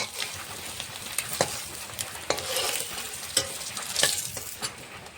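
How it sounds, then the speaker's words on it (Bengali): Eggs fry in oil in a pan with turmeric, a steady sizzle broken by sharp scraping clicks of stirring at irregular intervals, close and alone. "ডিমটা এখন ভালো করে ভেজে নেবো।"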